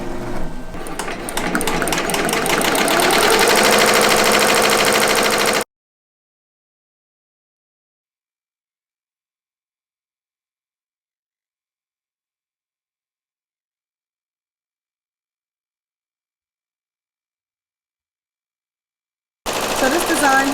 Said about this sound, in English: I'm stitching this out at 800 stitches per minute,